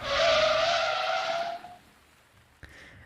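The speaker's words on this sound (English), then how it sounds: "Quickly, she put her foot on the brake." A car brakes hard with a loud, sustained tire screech that holds for about a second and a half, then fades, followed by a faint low thump near the end; it is a staged sound effect in a spoken English-lesson drama.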